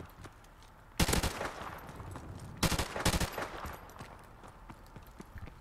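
AK-74U gunfire in Call of Duty Modern Warfare Remastered, two sharp bursts of rapid automatic shots, the second longer and more ragged, over quiet game ambience with no talk.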